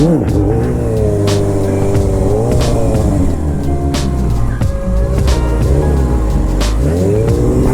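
A motorcycle engine holding a steady idle, then revving up and dropping back in a few rising and falling swells. The engine is close and loud throughout, with no voices.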